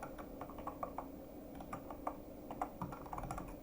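Rapid, irregular keystrokes on a computer keyboard while entering code, a steady close-up patter of clicks with no talking, over a faint background hum.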